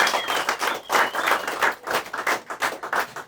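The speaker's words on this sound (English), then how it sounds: "Big round of applause for Joe for putting this on." Crowd at a comedy show at TBD Kitchen clapping, a dense burst of applause with some cheering mixed in, fairly close and lively, pulsing in uneven waves throughout.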